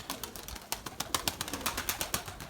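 A flock of pigeons bursting out of a large coop after long confinement, creating a loud, close flurry of rapid wing claps and flapping that pulses steadily throughout, with no talking.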